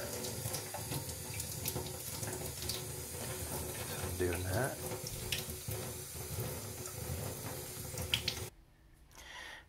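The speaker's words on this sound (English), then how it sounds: "the next step is to rinse it in cold water" Cold tap water runs steadily and splashes against a blued pistol part, with a brief remark spoken over it before the water shuts off near the end.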